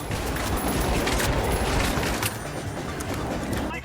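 Rapid gunfire in the shooter video game THE FINALS forms a dense, loud, continuous barrage with little pause from start to finish.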